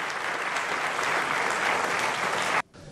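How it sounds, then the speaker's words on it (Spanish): Dense, steady applause fills a press event where a newly named secretary of communication has just spoken at the podium, holding loud and even before cutting off abruptly near the end. "Incluido aplausos."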